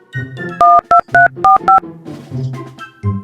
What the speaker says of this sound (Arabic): رن عليه بسرعه